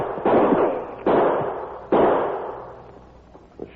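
Three sharp gunshot effects in a Western radio drama, spaced about a second apart, each a loud close crack that fades into a long ringing decay, with no voices.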